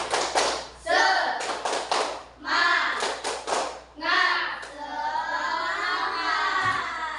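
A school class claps out a rhythmic spirit cheer in bursts of tight, patterned claps, with children's voices mixed in and a teacher-led pause before a longer chanted stretch near the end.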